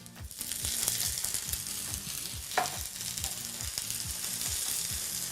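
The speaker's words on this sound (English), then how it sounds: "by sauteing the mushrooms. As well as the artichoke florets." Mushrooms and artichoke florets sauteed in a pan, a loud continuous sizzle of frying close by, with regular stirring strokes and an occasional clink of the utensil, no voices.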